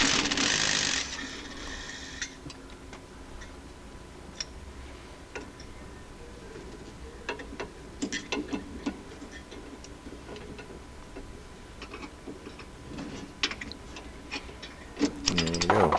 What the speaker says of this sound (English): Next thing we're going to do is going to take the sway bar link off.